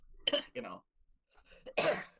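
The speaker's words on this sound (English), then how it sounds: "fuck this cough" A few harsh coughs, close and loud, with short pauses between bursts.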